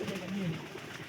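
Domestic pigeons coo softly up close, a low rolling burr over a quiet background.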